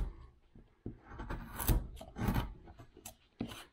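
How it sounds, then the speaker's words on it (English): A knife carves and trims wood on a caricature cowboy bust, producing close, rough scraping strokes in uneven bursts with brief pauses between cuts, alone without talk. "We're just cutting off wood."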